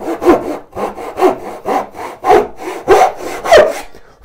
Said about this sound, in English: once I get that kerf in there, it's the exact same thing going all the way across the board